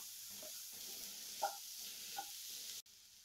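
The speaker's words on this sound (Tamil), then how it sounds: "ஒரு 2-3 நிமிஷம் வரைக்கும் இந்த எண்ணெயிலே நல்லா வதக்கி விட்டுக்கலாம்." Cauliflower sautéing in oil with turmeric and salt, a faint steady sizzle with a couple of soft stirring knocks, then an abrupt stop near the end.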